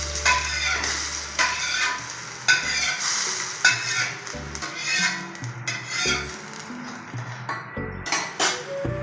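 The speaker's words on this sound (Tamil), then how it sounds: "கடுகு நல்லா பொரிஞ்சிச்சு" Mustard seeds crackle and splutter in hot oil during tempering for a Tamil capsicum chutney, with close, dense popping and sizzling bursts, plus occasional clinks of a spoon against the pan.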